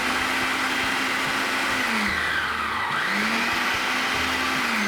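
A blender pulses sugar and molasses together to make brown sugar, two loud motor bursts that wind up to a steady whine, then spin down and restart, continuous and close.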